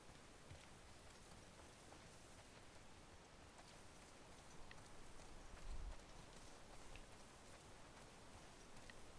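Very faint horse hooves clip-clop steadily in The Last of Us Part II, heard under a soft wash of ambient noise with one slightly louder thud midway and no talking.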